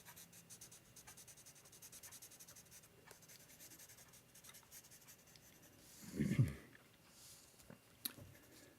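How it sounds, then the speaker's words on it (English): A 4B pencil drawing a tree on paper: a soft, steady graphite scratching runs quietly throughout, with a louder brief rub or tap partway through and a small tick near the end. "this is a 4B pencil, so it'll give me a darker mark"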